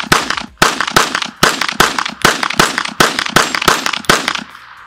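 A Kel-Tec PMR30 pistol fires a rapid string of about ten sharp, loud, cracking shots in steady rhythm, each with a brief echoing tail, ending in a fading ring.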